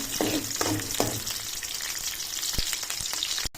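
Green chillies fry in a pan for Goan taikulya bhaji, giving a loud, constant sizzle with a few stirring scrapes and taps early on and a sharp knock near the end.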